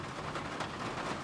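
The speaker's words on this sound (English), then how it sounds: "because the rain is going this way" Steady outdoor rain falls as a dense, even hiss of drops on surfaces near a wall being painted, continuous and fairly close with no voices.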